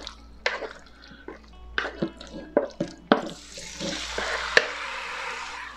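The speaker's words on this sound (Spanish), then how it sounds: "vamos a echar un poco de aceite para freír el pollo. Vamos a poner el pollo aquí." Seasoned chicken pieces are laid into hot oil in a pan for Chinese-style almond chicken. Sharp clacks and knocks are followed by a moderate, crackling sizzle that builds and sputters near the microphone.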